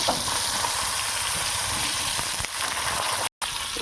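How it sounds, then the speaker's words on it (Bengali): A steady, continuous sizzle and hiss of pointed gourd frying in hot oil, close and even, with a brief dropout near the end. "এবার এই তেলের মধ্যে পটল কটা ভাজা করে নেব"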